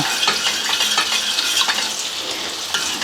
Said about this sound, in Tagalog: Haluin na natin to.